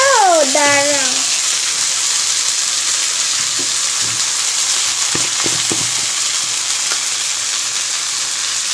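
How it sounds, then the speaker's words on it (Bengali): Green chillies split open and dropped into hot oil give a steady, close frying hiss, with a whistle-like tone at the start and a few light clinks of a utensil against the pan. "দুটো লঙ্কা ফাটিয়ে দেব কুচিয়ে দেব না লঙ্কা দিচ্ছ"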